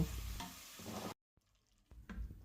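Spice paste and chopped onion sautéed in a pan for Kolkata-style chicken biryani, a soft sizzle with stirring that cuts out briefly and then resumes, fairly faint.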